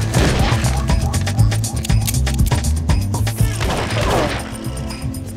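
Gunfire erupts in a police action film shootout during a hold-up, loud overlapping shots and crashes layered over a booming score, dense and continuous throughout with a brief lull near the end.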